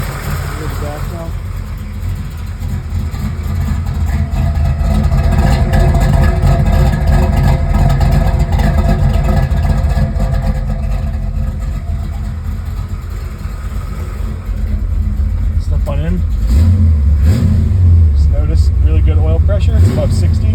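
A high-performance 383 engine in a 1972 Camaro runs loud and close with a steady low rumble, swelling briefly as if revved, while voices talk over it.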